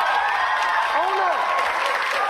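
A studio audience claps steadily and evenly through the whole stretch, a dense wash of applause with a little cheering and a voice speaking over it.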